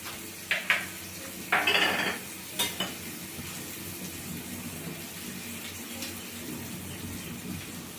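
Strained milk is poured into a cooking pan in two short splashing bursts, followed by a spoon clink and a few light kitchen knocks. A soft, steady kitchen background fills the rest, with no talk.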